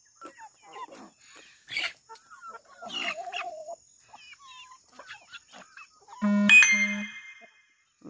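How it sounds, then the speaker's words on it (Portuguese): Chickens in a yard cluck and call in short scattered bursts, close by, with one louder, longer squawk near the end and quiet gaps between. "Tem galinha pra caramba, hein?"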